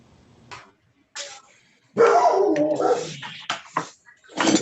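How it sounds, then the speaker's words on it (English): A dog barks in a few short, loud bursts, close and somewhat muffled, with brief pauses between them and no speech over it. "She got a barking dog."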